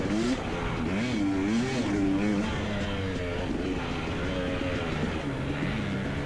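KTM 250XC two-stroke dirt bike ridden on a practice track at Moto541, engine note rising and falling continuously as it works over rough bumpy ground, steady and close throughout.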